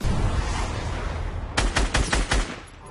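Fortnite gunfire comes as a quick burst of about five or six sharp shots near the middle, rising over a low game background with no speech.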